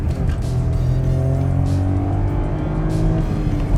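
A 2023 VW Polo Track engine revs steadily under a manual downshift, a continuous loud drone of engine and road noise with no voices.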